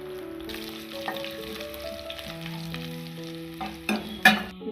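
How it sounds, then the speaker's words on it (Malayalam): Shallots and curry leaves fry in hot oil in a pan, giving a steady close sizzle broken by a few clattering stirs near the end, with no talking. "ഈ ചുവന്നുള്ളിയും കറിവേപ്പിലയും നന്നായിട്ടൊന്ന് മുരിഞ്ഞ് വരട്ടെ."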